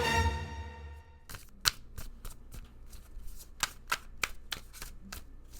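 Tarot cards being shuffled by hand, a series of sharp, close flicks and riffles in an uneven rhythm after a brief fading tone at the start.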